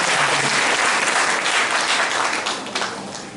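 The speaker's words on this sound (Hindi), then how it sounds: "अब अपने लिए ताली बजाइए" An audience at a spiritual talk claps together in a dense, steady burst of applause that stays loud for several seconds before thinning slightly at the end.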